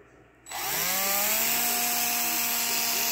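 A drill spins up with a Q-tip chucked in it, polishing the brass valve seat of an XR650R engine: a sharp start, then a steady, loud, close whine with rising pitch and a rubbing hiss, with no talking.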